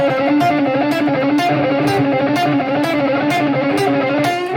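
Distorted electric guitar playing a rock lick of chromatic, revolving-door patterns, loud and continuous with quick repeating notes at a steady rhythm, no talking.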